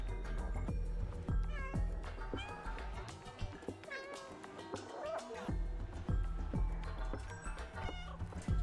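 A cat in the Stray video game gives several rising, wavering meows over a dense bed of game music and effects, some calls near and clear, others brief and partly buried.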